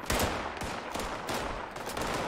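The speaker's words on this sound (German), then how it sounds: "Jetzt wird von allen Seiten geschossen." Gunfire in Fallout 76 comes from all sides as dense, overlapping bursts of shots crack loudly and continuously, with several sharper blasts standing out through the fight.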